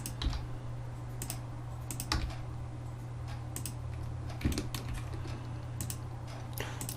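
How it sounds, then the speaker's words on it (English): Steady clicks of a computer keyboard and mouse while modelling in Blender, soft irregular taps spread across the clip over a constant low electrical hum. "So I'm just clicking and pressing G."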